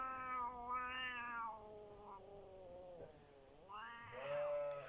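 An attacking cat lets out a few long, wavering meows that rise and fall into a caterwaul-like yowl, quiet and fairly close, with short pauses between calls.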